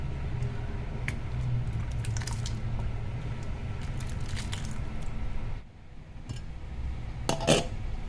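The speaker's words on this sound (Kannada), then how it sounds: "ಕುದೀತಾ ಇದೆ." Lentil and vegetable kootu boils in a pot with a steady, close bubbling simmer. It dips briefly near the end, followed by a short clatter, and no one speaks.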